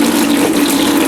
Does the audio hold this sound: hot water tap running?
yes